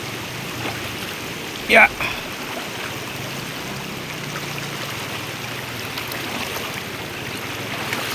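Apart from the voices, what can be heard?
river water flowing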